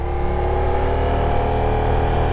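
A Ducati Diavel V4 motorcycle engine runs steadily while riding, a continuous close, loud drone with a smooth, even note and no talk over it.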